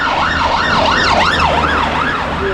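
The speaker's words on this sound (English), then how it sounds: "Oh no, ambulance." An ambulance siren wails on a street in Crediton, loud and close, its pitch rising and falling in a steady repeating cycle over traffic rumble.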